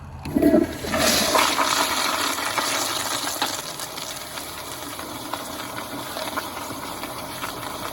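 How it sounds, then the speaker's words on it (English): A Kohler Wellcomme toilet flushes with a powerful rush and gurgle of water, loud and close at first, then settling into a steady swirling wash as the tank runs low. "So I'm just gonna keep flushing it until the tank runs out."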